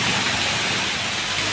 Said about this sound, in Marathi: भयंकर पाऊस